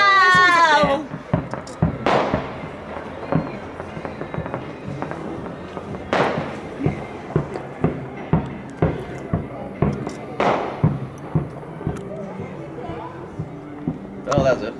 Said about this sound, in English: That's a bonus fireworks.